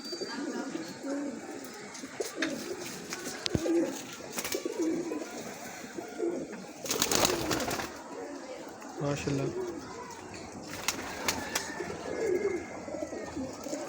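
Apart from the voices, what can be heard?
pigeons cooing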